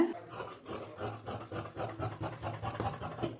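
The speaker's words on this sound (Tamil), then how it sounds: "இப்போ இதை நம்ம கட் பண்ணி எடுத்துடலாங்க" Scissors cut through lining fabric for a blouse, giving a close, steady rasping and rubbing texture with soft snips over a low background hum, with no talking.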